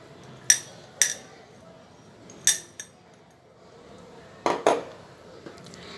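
Chopped cauliflower going into a bowl of marinated fish mixture, heard as a handful of sharp clinks and clatters of a spoon against the bowl, spaced irregularly with quiet gaps between.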